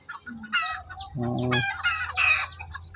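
A chicken clucks repeatedly at close range in a short, uneven series of calls, with a louder squawk partway through.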